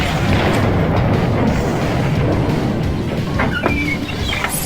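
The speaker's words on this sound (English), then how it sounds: "I got a rocket launcher that says" A rocket launcher blast in an arcade shooting game erupts as a loud, sustained booming roar with rumbling low end, some electronic tones ringing near the end, and no voices.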